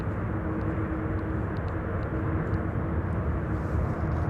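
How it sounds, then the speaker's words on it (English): A C-17 military transport aircraft moves on the ground at Amsterdam Schiphol Airport, giving off a constant loud, broad engine roar that holds steady throughout. "And the C-17 is on the move."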